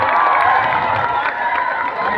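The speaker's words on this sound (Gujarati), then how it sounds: "તો આપણે તાળીઓના ગડગડાટથી એમને એકવાર વધાવી લઈએ" Crowd at a Navratri celebration cheering and clapping to welcome a guest, a dense, steady roar of voices and applause filling the space without a break.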